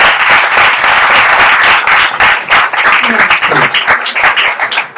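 Audience applause at a pop single launch event, a dense, sustained wash of many hands clapping close and loud for about five seconds, with faint voices mixed in.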